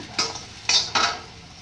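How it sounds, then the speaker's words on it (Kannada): Okra (bhindi) is stir-fried in a pan for a North Karnataka style palya, with three quick scraping strokes of a spatula over a faint background sizzle. "ಸ್ವಲ್ಪ ನೋಡಿ ಹಾಗೆ ಈ ಥರ ಹುರಿತಾ ಇರಬೇಕು"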